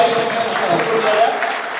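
An audience breaks into applause at a health product talk, many hands clapping in a steady crowded roar, with faint speech underneath.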